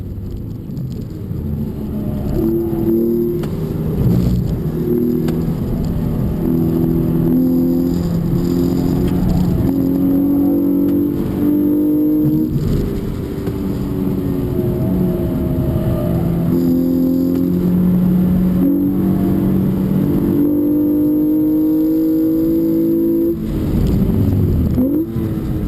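A 2013 Hyundai Genesis Coupe 3.8 R-spec is driven hard around a race track, its V6 engine droning loud and continuous as it climbs and drops through repeated gear changes, with no talking.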